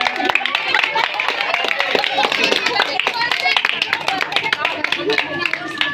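At an engagement cake-cutting ceremony, a group of people clap in quick, uneven bursts close by, with voices talking and calling out over the applause throughout.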